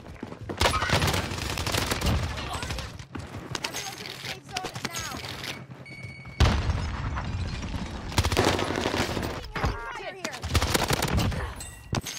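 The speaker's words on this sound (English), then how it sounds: "this OTS is my favorite gun right now" Rapid bursts of OTS gunfire in Call of Duty Warzone on Rebirth Island, loud repeated volleys with short pauses between them, plus other game effects and a voice talking over parts of the action.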